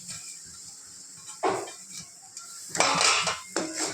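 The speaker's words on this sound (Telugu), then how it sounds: "దీన్ని కూడా 4 వైపులా కలుపుకుందాం." Boiled potatoes tossed and stirred in a pan over a slow flame while making an aloo masala gravy fry, with a few clattering scrapes and bursts of sizzling hiss against a quiet background.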